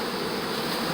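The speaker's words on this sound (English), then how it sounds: "the swarm makes a very loud noise because of all the drones" Honeybee swarm with drones present, a dense continuous buzz from many bees, close and loud with no pauses.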